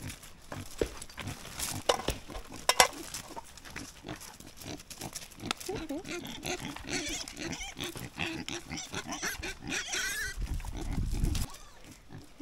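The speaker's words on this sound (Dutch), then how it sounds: "bij Chucky mee kregen die varkens altijd die verrotte kokosnoten." Farm pigs grunt and squeal in a busy, overlapping stream of snorts at moderate distance, with brief faint voices mixed in.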